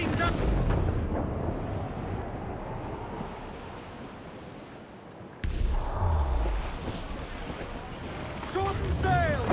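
Squall at sea in Assassin's Creed 4: Black Flag, with steady roaring wind and a distant cannon boom or two, then a sudden surge of louder gusts and spray while crew voices shout over the storm.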